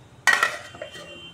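A metal kadai set down on a kitchen stove: one sharp clanking knock of metal on metal, followed by a couple of lighter rattles as it settles, close and brief.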